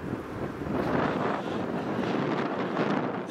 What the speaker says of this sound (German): Heute ist echt wieder windig.